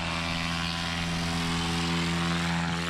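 Light aircraft taking off during an EAA land and take off league competition: a steady, loud propeller engine drone with strong harmonic hum, continuous for the whole stretch and heard alone.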